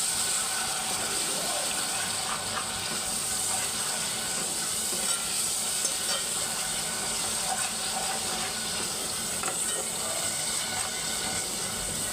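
Onion paste and ginger-garlic paste sizzle in hot oil with curry leaves for a coconut milk fish curry, a steady close hiss of frying that carries on throughout without pause.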